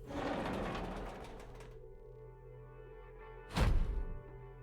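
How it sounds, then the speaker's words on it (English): Heavy iron gate in the Nikke: Goddess of Victory video game, a single loud booming slam near the end that rings out, after a faint rattling stretch over a low steady tone. "With a resounding bang, the heavy iron gate closed, followed by the echoing click of the lock"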